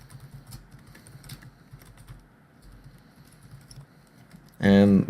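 Light keyboard typing on a computer while writing an email, soft scattered keystrokes over a low background hum for most of the clip, ending in a short loud burst of another sound.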